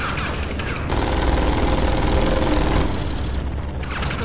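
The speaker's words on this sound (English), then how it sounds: "I can run through the gunfire." Sustained gunfire from the video game Tales from the Borderlands, a loud dense rattle of rapid shots that swells in the middle and eases off, with no talk over it.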